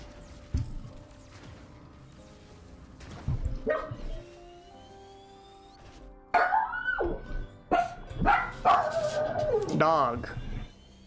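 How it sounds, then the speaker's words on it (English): A dog barks and yips in a video game, several short bursts clustered toward the end, loud and close, with game sounds and someone talking intermittently over them. "Dog."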